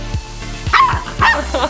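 A young female puppy gives several short, sharp barks spaced across the moment, near and fairly loud, with brief higher yips between them.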